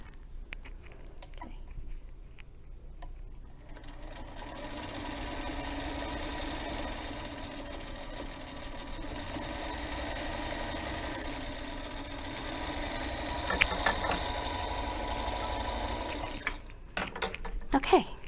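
A Singer Featherweight sewing machine stitches steadily for most of the stretch, a continuous close mechanical whir that stops near the end, with a voice speaking briefly around it.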